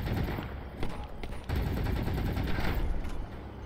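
Rapid bursts of gunfire during a vehicle battle in the video game Crossout, with overlapping shots and a heavy impact near the middle, loud and continuous without speech.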